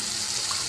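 Brief steady stream of water running from a tap into a dye bottle, a close, even hiss of pouring liquid with no pauses.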